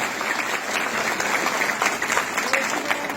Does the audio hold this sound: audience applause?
yes